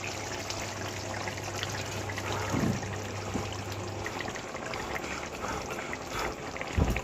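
Poppy seed paste for aloo posto boils in a pot. The bubbling is a faint, steady simmer, broken by a couple of soft low thumps.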